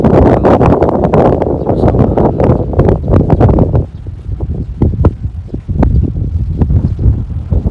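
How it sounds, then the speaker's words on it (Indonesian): Strong wind gusts through trees at the Batujaya temple site in Karawang, a loud rushing roar with buffeting against the microphone and rustling bursts that ease briefly midway before picking up again. "Adem banget, anginnya kencang."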